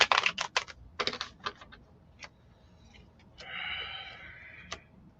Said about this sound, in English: For those wondering, I'm shuffling the cards up